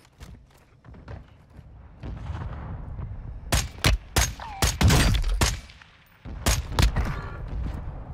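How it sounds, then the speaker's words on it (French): Mortar strikes in a video game, a series of heavy booming explosions and thuds arriving in clusters, loud and close, with scattered gunfire. "On se prend une frappe de mortier."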